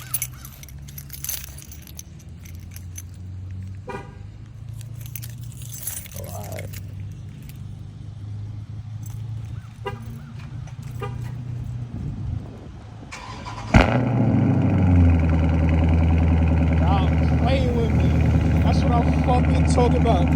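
Cold start of a 2022 Dodge Charger Scat Pack Widebody with a mid muffler delete: keys rattle and someone talks, then the engine fires with a loud sudden roar and settles into a heavy, rumbling high idle up close.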